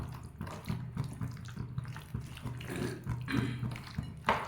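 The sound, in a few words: small amount of water being poured into a pan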